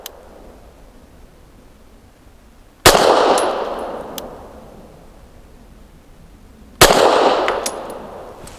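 Two sharp, loud shots from a Beretta APX A1 Compact pistol firing PPU 158 grain subsonic rounds, spaced about four seconds apart, each trailing off in a long outdoor reverberation with faint metallic clinks, no talking.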